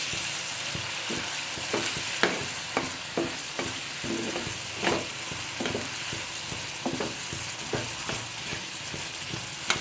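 Prawn malai curry is stirred and fried in a pan after a yogurt and cumin powder mix goes in. A continuous sizzle is broken by repeated scraping strokes of the spoon at an uneven rhythm.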